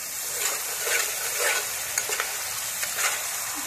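Spices and slit green chillies stir-fried in oil for a hilsa curry, with a steady broadband sizzle and a spoon scraping through the pan in regular strokes, close and alone.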